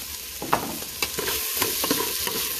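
Garlic and chili sautéing in a pan for Visayan-style adobo with coconut milk, a steady close sizzle broken by several sharp scrapes and clacks of a spoon stirring.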